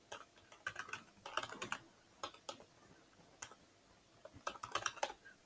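Fingers tap out numbers on a computer keyboard in short bursts of quick clicks with pauses between, fairly close and quiet, no talking.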